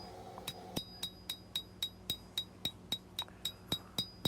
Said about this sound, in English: And I'm going to use the cross peen to stretch it out.